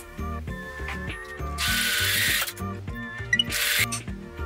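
A sewing machine stitching along the second side of a cushion cover, fast rhythmic mechanical chatter of the needle running in bursts, with brief hisses between, close and loud.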